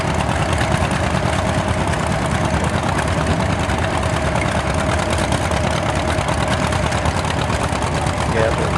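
An antique John Deere tractor engine runs in a steady, continuous chug at a tractor pull show, with dense crowd and outdoor noise around it and people talking.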